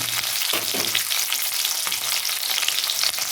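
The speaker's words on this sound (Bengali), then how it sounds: "তেলটা গরম হয়ে গেছে আমি দেবো কয়েকটা কাঁচা লঙ্কা আর একটু পেঁয়াজ জাস্ট একটু ভেজে নেবো" Green chillies and a little onion frying in a small amount of hot oil, an even close sizzle with bursts of crackling and a couple of stirring clatters.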